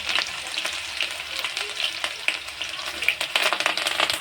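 Ginger garlic paste dropped into hot oil in a kadhai for prawn masala, a busy steady sizzle with crackling spits and occasional stirring scrapes, close by and without speech.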